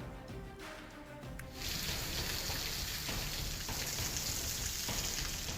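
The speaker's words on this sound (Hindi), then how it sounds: "जमशेदपुर में मानसून की मूसलाधार बारिश से त्राहिमाम के हालात हैं।" Heavy monsoon downpour in Jamshedpur, a dense hiss of rain that swells suddenly after a quieter opening and then stays steady and loud.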